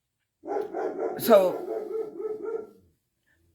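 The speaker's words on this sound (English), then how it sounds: "the noise of the barking is again stopping the brain" A dog barks and yips indoors in a quick run of short calls lasting about two seconds, fairly near and moderately loud, with a voice briefly heard alongside.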